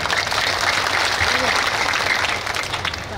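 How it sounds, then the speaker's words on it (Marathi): An audience at a kirtan gathering in Pawdewadi village breaks into loud, continuous applause, a dense wash of clapping that stays strong and even throughout with slight easing near the end. "त्यांच्या करता, वाचक सूचकाकरता एकदा टाळ्या वाजवा."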